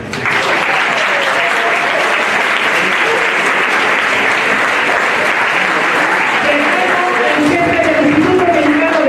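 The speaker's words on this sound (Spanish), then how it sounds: "aplauso al doctor Marco Antonio Polo Scott." Sustained applause from an audience honoring a doctor at a lecture event, steady dense clapping filling the whole stretch at a constant loud level.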